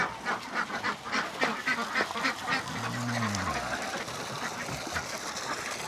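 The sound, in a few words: ducks quacking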